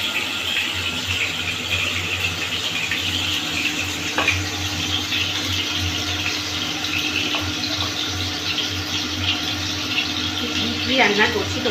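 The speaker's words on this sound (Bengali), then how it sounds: "আলুটা ভেজে নিচ্ছে" Potatoes frying in oil for a mutton dish, a steady sizzle and crackle throughout, with a voice talking over it.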